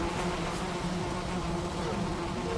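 Bees buzzing steadily in the Valheim video game, a continuous droning hum that holds at an even level throughout with no talk over it.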